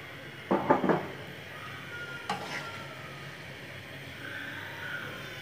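Bitter gourd and fish curry being stirred in a pan: a short cluster of scraping stirs near the start, a lighter scrape later, over a steady soft sizzle.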